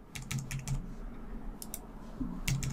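A 4-digit PIN typed on a computer keyboard during Windows 10 setup: a short series of quiet, close key clicks in small clusters with brief pauses between them.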